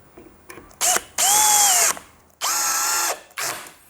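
A Bosch GSB 185 LI cordless brushless hammer drill, used for boring into wood, whines loudly in several short bursts, spinning up and down in pitch with brief pauses between runs, close and alone.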